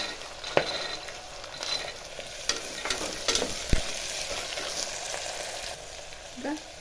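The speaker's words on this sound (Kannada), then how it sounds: "ತರಕಾರಿಗಳನ್ನು ಮೊದಲು ಫ್ರೈ ಮಾಡ್ಕೋಬೇಕು ಸ್ವಲ್ಪ ಬಟಾಣಿ ಹಾಕೊಳ್ಳಿ" Mixed vegetables and green peas fry in a pan for vegetable pulao, a constant close sizzle broken by scraping stirs and sharp spatula clicks, with no talk.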